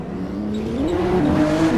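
A group of sports cars, including an M135i, Focus, A45 and M4s, brakes into a sharp corner, steady engine drone with a rising tonal whine or light tire squeal, close and continuous.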